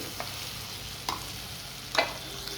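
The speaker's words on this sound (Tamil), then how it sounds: "அடிக்கடி நம்ம கத்திரிக்காவை கிளறி விடணும்." Brinjal frying in oil is stirred with a spoon, giving a soft background sizzle broken by a few brief scraping strokes, quiet and close.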